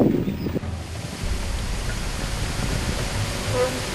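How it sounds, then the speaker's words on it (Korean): Gusting wind roars over a microphone outdoors at a beekeeping site, a steady, broad whooshing rush that rises and falls slightly. "그 바람, 그 회오리 부는 소리 나잖아요."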